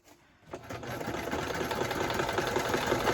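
A sewing machine stitches a small stitch length for a travel kit lap book. After a quiet start it runs close and loud, with a fast, steady mechanical whir and rapid needle clatter.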